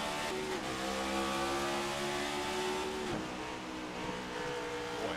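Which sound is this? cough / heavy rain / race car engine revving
race car engine revving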